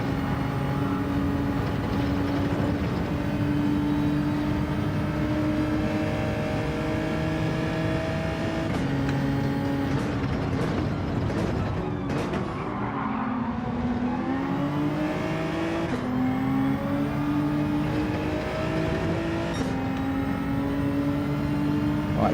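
Race car engines drone and rev steadily in Gran Turismo 7 during an online lobby race, a Hurricane car chasing another, with sustained harmonic whine rising and falling as gears shift and cars run close together.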